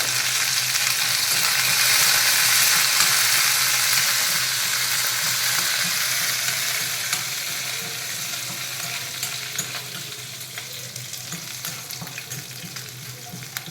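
Finely cut green chillies and curry leaves sizzle in hot oil in a pan, a steady loud frying hiss with occasional stirring scrapes, gradually easing a little in level throughout.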